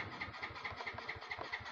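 A motor scooter engine, an M3 with a blinking check-engine fault, cranks and catches, then idles with a fast regular putter, faint and alone.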